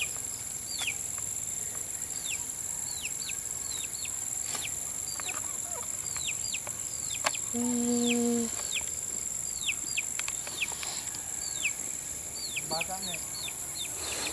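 Chickens near a papaya tree in a rural spot, with repeated short chirps and a brief clucking burst against steady insect buzz, while a person talks nearby.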